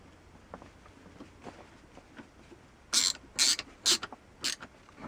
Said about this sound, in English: if you guys don't have a ratcheting screwdriver, it's come in really handy